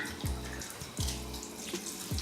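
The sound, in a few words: water running while wetting curly hair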